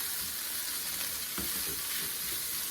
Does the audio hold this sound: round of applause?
no